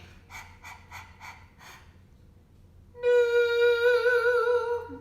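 A person pants four quick, breathy breaths in a row as a singing exercise, pauses, then holds a steady sung note.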